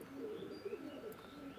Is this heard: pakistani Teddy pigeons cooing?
yes